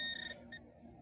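A metal detector gives two short high-pitched electronic beeps, a longer tone then a brief second one, faint over low outdoor background rumble in a field.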